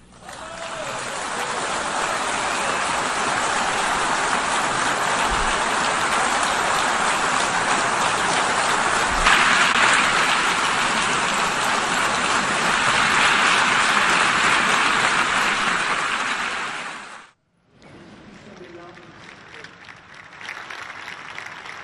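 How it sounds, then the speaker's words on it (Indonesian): A large assembly hall audience gives a standing ovation to French President Macron for recognising Palestine, with sustained dense clapping that runs loud and steady for about seventeen seconds before cutting off, followed by a softer crowd murmur. "Presiden Prabowo Subianto berdiri dan memberi tepuk tangan atau standing ovation saat Presiden Perancis Macron mengakui Palestina sebagai negara"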